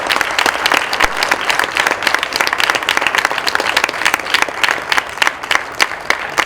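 An awards ceremony crowd claps for a named winner, a loud, lively round of many hands with crisp individual claps standing out and holding steady from start to finish.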